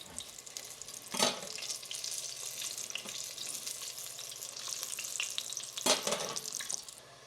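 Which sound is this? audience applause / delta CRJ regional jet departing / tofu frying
tofu frying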